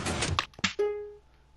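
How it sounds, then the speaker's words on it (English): Minecraft piston fired by a redstone torch, a short close mechanical thunk and slide followed by a brief ringing tone, with a quieter click at the end. "And then you just place the redstone torch on the piston or sticky piston,"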